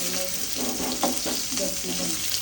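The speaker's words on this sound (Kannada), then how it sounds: "ಇದು ಬಜ್ಜಿ ಮಾಡಿದ್ನಲ್ಲ, ಅದರಲ್ಲೇ ಒಗ್ಗರಣೆ ಮಾಡ್ತಾ ಇದ್ದೀನಿ" Spices for tempering sizzle and crackle in hot oil left over from frying bajji, a steady close frying hiss with a few sharper pops and faint stirring.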